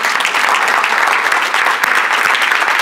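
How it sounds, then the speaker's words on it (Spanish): Dense, loud applause from a church congregation closing a sermon, many hands clapping steadily and evenly throughout with no pause. "dar un aplauso, Señor"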